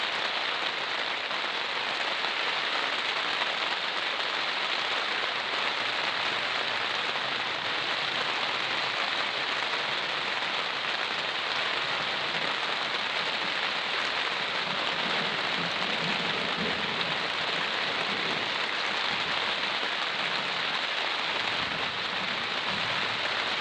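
Steady rain falls during a thunderstorm in Essex, UK, a constant even hiss of drops on surfaces with no break or distinct thunder.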